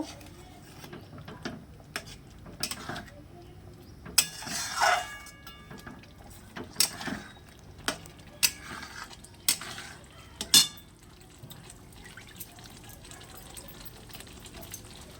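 Spoon stirring a spice mix in a bowl: a series of sharp, light metallic scrapes and clinks at irregular intervals, close by and fairly quiet, with no talking.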